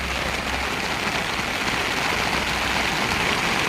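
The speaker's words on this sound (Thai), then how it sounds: "รอฝนหยุดอย่างเดียวครับ" Steady rain pours down outdoors by a natural canal, a dense, even hiss that fills the whole stretch with a faint low rumble underneath at the start and no voices.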